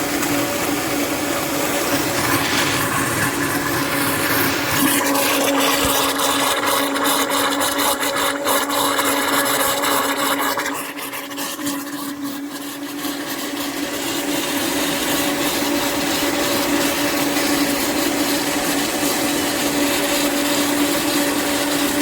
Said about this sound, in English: the peanut butter and jelly smoothie is ready to be blended